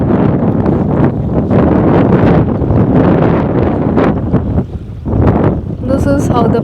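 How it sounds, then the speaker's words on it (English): Heavy wind gusts at backwaters roar and buffet the microphone almost nonstop, briefly easing before surging again; a faint voice seems to come through near the end. "it's very windy"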